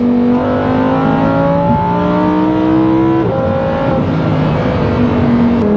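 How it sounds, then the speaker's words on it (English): Car engine revving up loudly through rising gears with sweeping tones, with brief crackling pops as the throttle shifts, heard close and without talk. "You can hear those pops and bangs."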